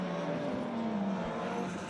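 A Ford RS200 rallycross car climbs a hill at Lydden Hill, its engine a steady, loud drone with a rising pitch as it accelerates away.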